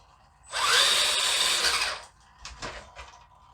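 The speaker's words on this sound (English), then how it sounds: "Please don't mind my super sketchy old noisy servo" An old, noisy servo on a Clodbuster RC truck lets out a harsh, grinding whir for about a second and a half, then gives a few shorter, fainter buzzes, close by.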